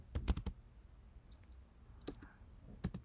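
Computer keyboard keys tapped in short bursts while entering text into an image-editing program, a quick cluster of clicks at the start, a few more midway and another cluster at the end, fairly close and quiet.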